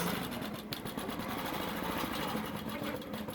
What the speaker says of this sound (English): So right now it's stitching, and you can see that it's doing straight lines across the top.